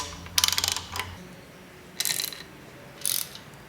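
A ratchet wrench turns the timing belt tensioner on a Ford 1.8 Duratorq TDCi diesel engine, giving three short bursts of quick metallic clicking, close up, separated by quiet gaps.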